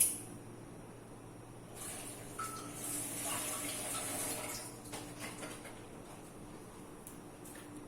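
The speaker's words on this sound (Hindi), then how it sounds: "अब इसमें जस्ट 2 घूंट पानी के ऐड करने लगी हूँ डब्बे के अंदर" Water is poured into a pot of milk on the stove, a faint soft trickle and splash lasting a couple of seconds amid quiet kitchen background.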